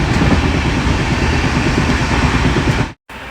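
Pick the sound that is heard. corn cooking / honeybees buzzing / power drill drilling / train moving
train moving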